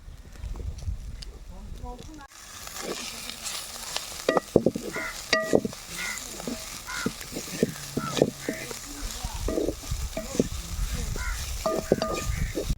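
Drumstick leaves frying with pounded chilli in a seasoning tempering, making a steady close sizzle broken by stirring clinks and scrapes, with a voice talking over it.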